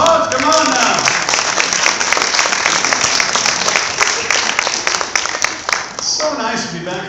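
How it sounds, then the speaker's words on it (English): An audience at an after-prom event applauds with dense, sustained clapping that fills the room for several seconds, while a voice talks over it. "Give all my friends a huge round of applause."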